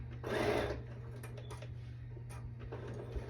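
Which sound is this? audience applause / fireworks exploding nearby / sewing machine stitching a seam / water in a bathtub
sewing machine stitching a seam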